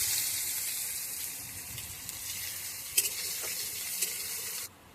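Radhuni spice and garlic sizzle steadily in hot oil for a Bengali tempering, a close, continuous hiss with a few brief clinks of a stirring utensil, and no talking.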